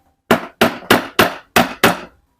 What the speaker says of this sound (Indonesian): Coba kita pukul saja menggunakan palu lunak.